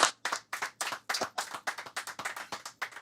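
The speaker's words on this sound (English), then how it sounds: "And they clapped, actually, which is a new thing" A studio audience at a talk show claps in a steady burst of applause, the crisp hand claps coming in quick, even waves, fairly close and with no voices over them.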